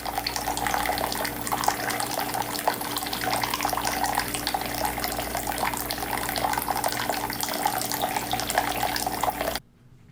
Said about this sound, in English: thaw them with some cool, running water